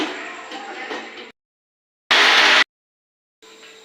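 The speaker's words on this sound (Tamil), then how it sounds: "மிக்சியில் அரைக்கணும்." A mixer grinder whirs in a brief loud burst, grinding cashews for mushroom gravy, with short stretches of dead silence before and after.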